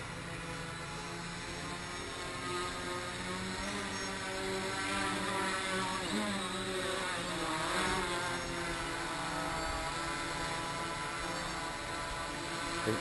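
H-quad quadcopter drone in flight, a continuous buzzing motor whine with harmonic tones that rise and fall slightly as the throttle shifts, steady and moderately close for the whole stretch.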